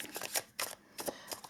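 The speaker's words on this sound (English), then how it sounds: "Just want to shuffle a couple of times here first before I start pulling the cards here" Tarot cards being shuffled by hand in quick riffling bursts, several short crisp flutters in a row, close and quiet with no talking.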